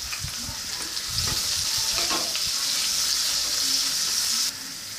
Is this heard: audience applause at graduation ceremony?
no